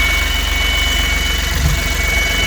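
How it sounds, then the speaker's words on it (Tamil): An Ashok Leyland Dost LS 4 light truck idles just after starting, its diesel engine giving a steady low throb with a fine regular pulse, close and constant for the whole stretch with no talking. "வண்டி ஸ்டார்ட் ஆகிடுச்சு. இன்ஜின் நாய்ஸ் பார்த்துங்க."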